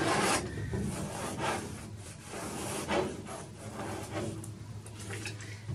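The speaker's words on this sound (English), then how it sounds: "I take the very tip of it and scrape it through." A palette knife scrapes acrylic paint across canvas for a simple seascape, making repeated soft rasping strokes in a back-and-forth rhythm, close and fairly quiet, with no talking.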